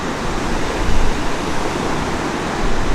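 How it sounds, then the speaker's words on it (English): 0W-40 motor oil pours into the engine of a 2007 Dodge Sprinter, a close, loud, continuous rushing gurgle that holds steady for the whole stretch with no talking. "Now we're gonna fill up with our motor oil"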